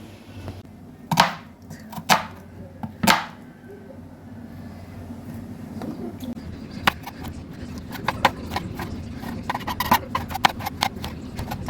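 Knife strikes on a board while preparing a dried fish salad, three sharp separate chops early on, then quicker lighter cuts scattered over a low background hum.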